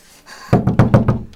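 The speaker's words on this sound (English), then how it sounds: "looks like somebody's at the door" Five loud, close knocks on a door in a quick, even rhythm, heard alone with no voices.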